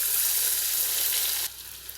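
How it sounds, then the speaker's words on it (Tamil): Loud, steady sizzling of bonda snacks deep-frying in hot oil, dropping slightly in intensity partway through. "இப்போ நம்ம பொரிக்க ஆரம்பிச்சிடலாம்"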